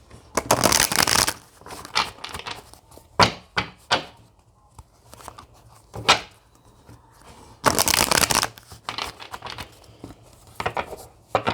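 Tarot card deck shuffled by hand in repeated riffling bursts, crisp papery flutters with soft taps between them, close and clear, no talk.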